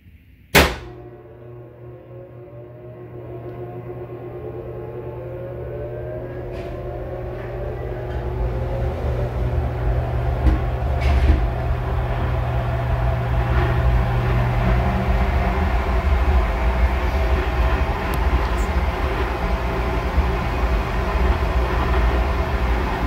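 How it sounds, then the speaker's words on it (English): A pipe organ blower switches on with a sharp click, then hums and winds up as a church organ reservoir pressurizes, with a rising whine and steady low drone building to a constant running roar. "let me go run to the organ console and turn the organ on, and you can watch as this reservoir pressurizes and the organ comes to life"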